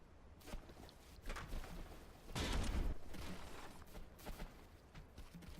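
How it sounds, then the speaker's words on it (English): A particle cannon firing in the naval combat game From The Depths, heard as one heavy, rumbling blast with a long roaring tail, set among fainter, distant thuds. "the particle cannon, I think, needs to be turned down because that was a very bad shot"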